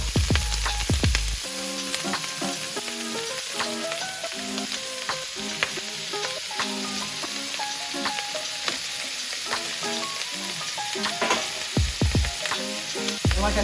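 Sausage sizzles and crackles in a hot skillet alongside peppers, a dense continuous frying hiss broken by sharp pops and a few clanks of stirring.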